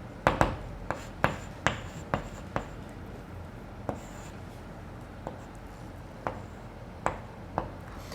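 Chalk tapping and scratching on a classroom board during a physics lesson on forces: a run of sharp, irregular taps and short strokes, close and fairly crisp, with quiet room tone between them.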